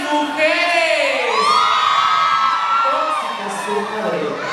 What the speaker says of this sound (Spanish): Que se escuche fuerte el grito de todas las mujeres